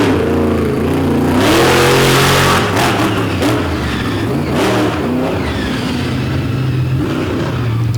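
Monster truck engine revving loud and close at a motorsport event, the roar rising and falling with throttle changes under crowd noise.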